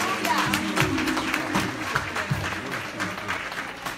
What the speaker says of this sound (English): clap your hands and give God